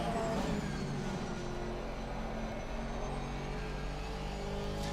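A Porsche race car in Assetto Corsa Competizione laps Spa with a sustained engine drone. The engine tone shifts slightly as the car slides a little out of shape, with no talking.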